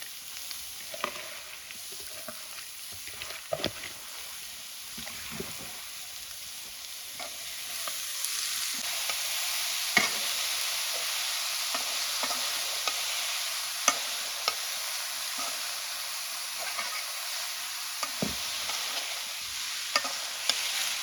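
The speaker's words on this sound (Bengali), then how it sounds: "পেঁয়াজগুলো আদা ভাজা হয়েছে, আমি শাক দিয়ে দিতেছি।" Malancha greens being stirred into a pan of fried onion and ginger, frying with a steady sizzle throughout and repeated scraping stirs of a utensil, close and moderately loud.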